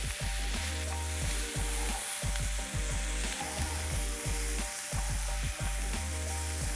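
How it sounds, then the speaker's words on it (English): Chutney masala spices with black pepper sizzle loudly in a hot pan while a spoon scrapes and stirs in a steady, repeated rhythm, with no talking. "Saute till the rawness of the masala goes away."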